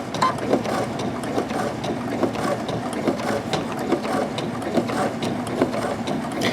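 A Baby Lock domestic sewing machine fitted with a roller foot stitches leather at slow speed, giving a steady, close, rhythmic mechanical clatter of needle and gears.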